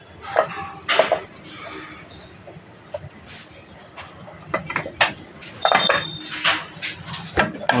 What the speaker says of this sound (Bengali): টপ কভারটাকে একটু বসিয়ে নেব যাতে ঠিকঠাকভাবে বসে যায়